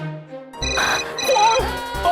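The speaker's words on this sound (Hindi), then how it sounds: "फोन, पापा, आज का पहला फोन।" A phone ringtone chimes for an incoming call from dad, a short tonal ring starting faintly and then sounding loud and melodic close by, with no talking over it.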